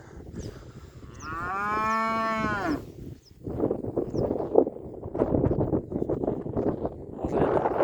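An ox or calf lets out one long, strong harmonic moo up close, followed by steady rustling and shuffling from the herd with light wind noise.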